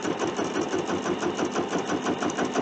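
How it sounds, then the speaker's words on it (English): A long-arm quilting machine stitches an edge-to-edge pattern across a block-of-the-month quilt, giving a steady, fast mechanical whirring and rhythmic needle chatter that runs close and continuously throughout. "I find it very relaxing and enjoyable to watch all the stitching and see the quilt kind of come together"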